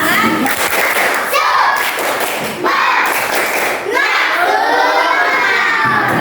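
A group shouts the Indonesian 'tepuk semangat' rhythmic clapping chant together in a classroom session, punctuated by bursts of clapping and cheering, loud and close.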